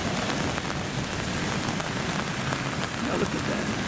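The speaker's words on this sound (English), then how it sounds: "Little rain, little thunderstorm." Rain falling steadily in woods during a light thunderstorm, a dense even patter of drops close by with no distinct thunder clap.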